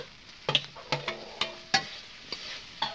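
A vegetable curry with tomato is stirred in a pan, a handful of distinct scraping and clinking strokes of a utensil against metal over a faint low sizzle, close by and without speech.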